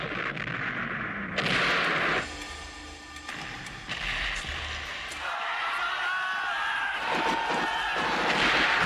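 Mortar fire in a Vietnam War battle, with several heavy booms and bursts over a rumbling, chaotic battlefield din, mixed with shouting voices.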